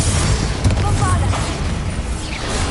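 Bombarda explosion spell in Hogwarts Legacy, a loud booming blast with rumbling low end and scattered popping debris, one main detonation followed by a rolling, fading tail amid combat noise.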